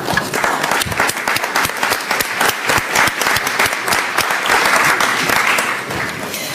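Delegates applaud in a parliamentary committee session on democracy and human rights. A crowd claps warmly and continuously, with dense, even hand claps at a steady level that dip slightly at the end.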